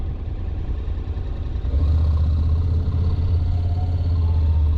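A 2014 Honda CTX700 motorcycle with an automatic DCT gearbox pulls away from a stop, its engine hum swelling into a loud, steady low drone after a brief idle, close by and with no talk.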